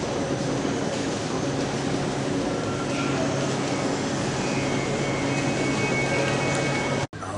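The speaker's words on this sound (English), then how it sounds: "it looks like the train's coming in." A train pulls into a station on the Amsterdam to Berlin route, giving a steady broadband rumble and hiss with faint squeals, continuous until a sharp momentary drop near the end.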